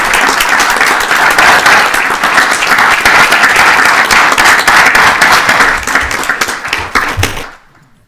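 A round of applause at a city council meeting, a crowd clapping loudly and steadily for several seconds before trailing off abruptly.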